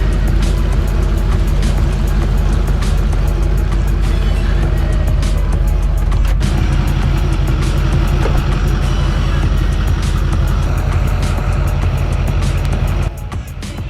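A pickup truck engine rumbles steadily and loudly close by as it drives past for the whole stretch, then drops off abruptly near the end.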